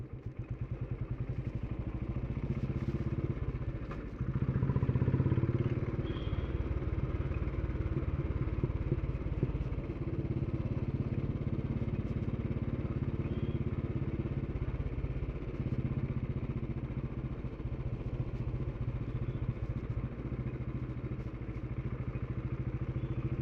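A motorcycle ridden at slow speed on a hill road, its mid-pitched engine running steadily and close throughout, with occasional clatter and thumps and no talking.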